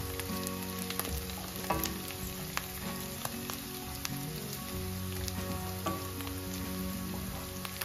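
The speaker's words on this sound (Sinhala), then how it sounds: "ඊට පස්සේ රම්ප ටිකයි කරපිංචා ටිකයි ඒ ටිකත් ඒකට එකතු කරලා චුට්ටක් දැද ගන්නවා ලුණු ටිකත් එක්කම" Pandan (rampe) and curry leaves fry with salt in a pan for chicken curry, giving a steady, dense sizzle with light popping throughout and occasional soft stir clicks, with no talking.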